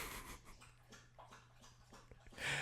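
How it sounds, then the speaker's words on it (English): A dog laps up water nearby in quick, rhythmic wet slurps over a low steady hum, fairly quiet, with a louder burst of noise at the end. "He is the loudest drinking dog, just lapping up water."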